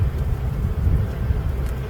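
Blustery wind on a cold spring day by a beehive, buffeting the microphone in a constant low rumble with gusty surges and no voices.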